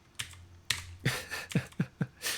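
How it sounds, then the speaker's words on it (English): Close, clicky taps on a computer keyboard come in uneven bursts of about eight keystrokes, each one sharp and distinct, with short gaps between them and no voice. "am using a keyboard right now which is pretty painful"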